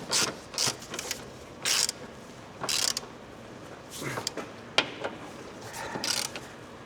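Ratchet clicking in bursts while bolts are checked for tightness on a Volkswagen Golf R during a service, close and fairly quiet, with several short spurts of ratcheting separated by pauses and no talk.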